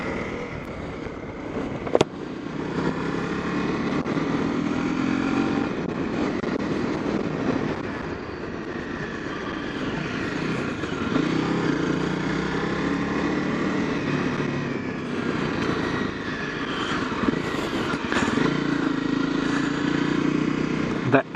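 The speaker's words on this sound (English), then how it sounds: "The engine has only 25 horsepower, which is really noticeable." A Honda CRF 250 Rally motorcycle's engine hums steadily while riding, a continuous droning tone that shifts pitch over time, with a voice talking over it and brief clunks.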